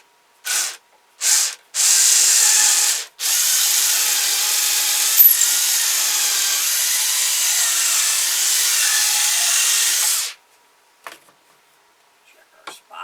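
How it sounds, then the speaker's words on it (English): A power drill with a 1/4-inch bit bores into wood for a ventriloquist dummy figure, starting with two short bursts, then running for about seven seconds in a steady high whine before stopping, followed by faint handling taps. "Now I'm going to use a 1/4-inch drill bit. I'm going to drill a hole down through here"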